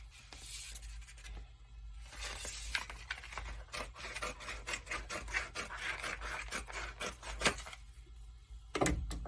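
Excess heat transfer vinyl is being cut away by hand for a shirt project, a close run of quick rapid snips and rasping scrapes, fairly quiet with no talk.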